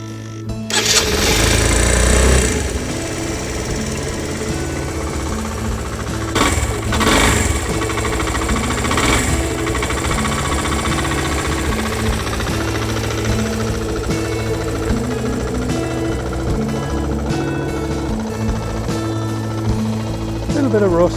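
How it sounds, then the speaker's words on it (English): A Suzuki Van Van RV125 motorcycle engine cranks and catches, then settles into a steady, loud single-cylinder idle nearby with a few blips of throttle, and people talk over it. "It's a Suzuki Van RV125. So we fire her up, see what happens."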